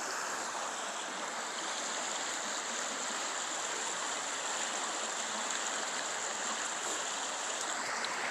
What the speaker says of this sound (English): So we got this creek right here